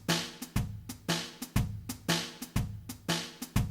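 Blues shuffle drum pattern, sequenced on iOS, with kick drum, snare and triplet hi-hat in a steady swung loop; punchy, close and dry hits repeat about every half second with no talk over them.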